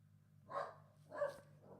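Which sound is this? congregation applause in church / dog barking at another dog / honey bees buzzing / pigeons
dog barking at another dog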